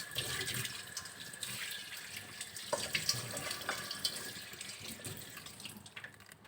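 Water poured into a cooking pot, about 200 ml, while making vegetable-stuffed tofu: a steady splashing stream running for several seconds, close and moderately quiet, with no talking.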